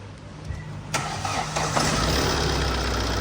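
A Tata diesel truck engine cranks and fires up after an ECU replacement, catching near the one-second mark and settling into a steady, loud rumbling idle close by.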